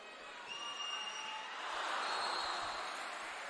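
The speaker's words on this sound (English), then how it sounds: "The build up now, the crowd rises to it." A crowd at a women's water polo gold medal game between Italy and Hungary roars steadily in a large venue, the cheering swelling louder toward the middle before holding at a high, even level.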